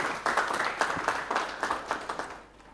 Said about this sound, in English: I think we should give them a hand clap before we